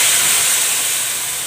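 Water tipped into hot masala frying in a pan, giving a loud, steady sizzling hiss that fades slightly over a second and a half, with no talking.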